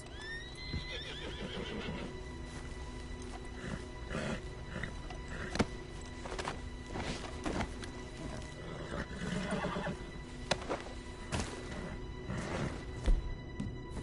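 A horse neighs and whinnies in Red Dead Redemption 2. Hooves clip-clop and game ambience fill the background, fairly faint and continuous.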